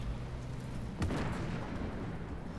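A tank cannon fires in Armored Warfare, a single muffled boom rising briefly out of steady engine rumble and battle noise.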